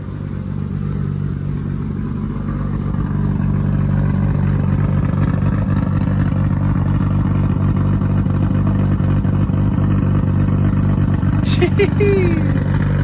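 A Nissan R32 GTR engine idles steadily while warming up on a dyno, a loud continuous low rumble with a brief higher whine near the end.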